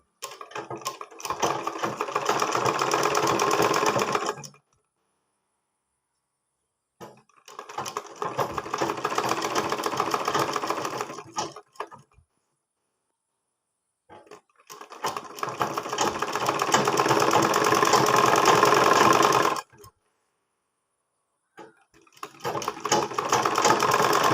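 A sewing machine top-stitching a fold of fabric runs in four steady whirring bursts separated by short silences, close and loud with no talk.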